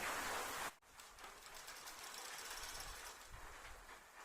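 A sewing machine runs steadily along the edge of a size 52 bra, a continuous mechanical whir after a brief sharp noise at the start.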